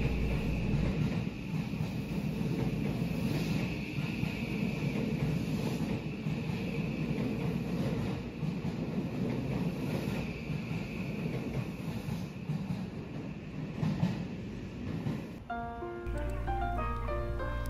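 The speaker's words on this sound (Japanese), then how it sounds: "323系電車桜島駅を出発し、ユニバーサルシティ、そして西九条大阪方面へ発車していきました" A JR 323 series electric commuter train rumbles steadily as it pulls away from Sakurajima Station, Osaka, a broad continuous roar that cuts off abruptly near the end, with faint voices underneath.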